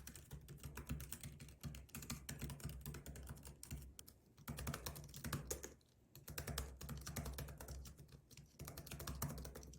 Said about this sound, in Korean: 그럼 키보드 타건 소리도 한번 비교를 해보겠습니다.